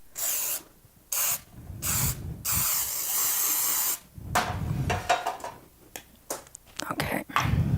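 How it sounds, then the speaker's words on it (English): Short bursts of cooking spray hiss onto the sides of a loaf pan for pumpkin bread, several quick sprays in a row followed by softer handling noises and a low voice. "And I just hold it back to spray it. So lightly spray it,"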